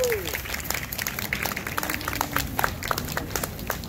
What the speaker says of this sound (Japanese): 拍手お願いします。